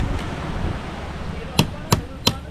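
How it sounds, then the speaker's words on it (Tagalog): Three sharp hammer blows, spaced unevenly, ring out during construction of a new hut near the seaside, over a low murmur of background noise and faint activity. "martilyo"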